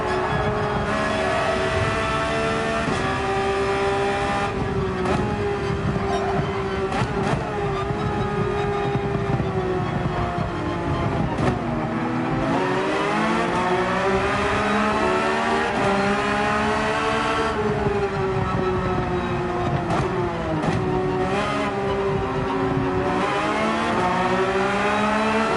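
Porsche 911 GT3 racing engines in the Gran Turismo 7 game on the Mount Panorama circuit howl loudly and continuously, rising and falling through gear changes as several cars accelerate together, heard alone with no talk.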